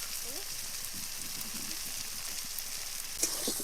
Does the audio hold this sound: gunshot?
no